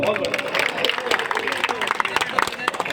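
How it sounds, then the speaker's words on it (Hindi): Audience members at a Hindi poetry recital clap in a lively scatter of hands close by, mixed with crowd murmur and voices talking over the clapping. "एक बार अपने लिए ताली बजाओ आप लोग।"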